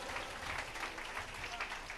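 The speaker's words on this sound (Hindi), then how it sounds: "जोर से ताली बजाकर परमेश्वर को धन्यवाद करें।" Church congregation at a Sunday service clapping together, a steady dense wash of hand claps held at even loudness for about two seconds with a murmur of voices mixed in.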